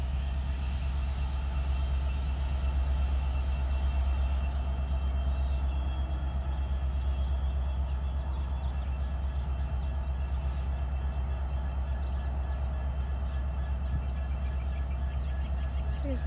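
Steady low rumble of a freight train rolling along the tracks at Highgrove, constant and fairly close, with faint mechanical hum and occasional high squeals over the whole stretch.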